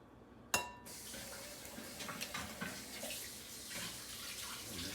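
An egg is cracked on the edge of a bowl of manicotti filling with parsley. A single sharp, close crack is followed by quiet wet slipping and soft clinks in a calm kitchen.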